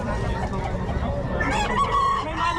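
Native chickens of the Melting Black, Nelson and Super Brown Red breeds in a yard, roosters crowing and clucking close by, the calls rising and growing loud over a bustling background with faint voices.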